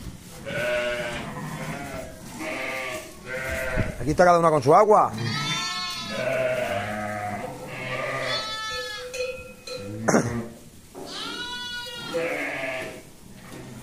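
Sheep bleat repeatedly, loud and close, with someone talking over and between the calls.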